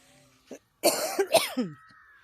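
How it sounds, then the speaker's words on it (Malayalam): Several short, harsh coughs in quick succession, close and fairly loud, with a brief pause before the burst. "എൻ്റെ ചുമ നിങ്ങൾ കേൾക്കണ്ട"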